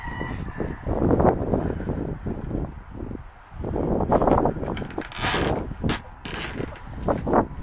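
Chickens cluck and a rooster crows inside a coop winterized against dropping temperatures, the birds near and fairly loud with wind rustling around, in bursts without talk.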